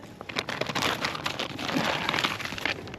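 A plastic bag found under a boulder while geocaching outdoors being handled close up, with continuous rapid crinkling and crackling that rises and falls, with no talking.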